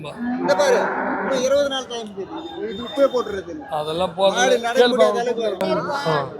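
A cow mooing with long, low, drawn-out calls at the Poigai cattle market, while people talk over and around it.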